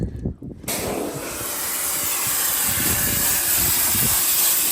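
A pressure washer blasts water onto 3rd Gen Cummins truck parts, a loud continuous hissing spray that starts abruptly after a short pause and holds steady close up.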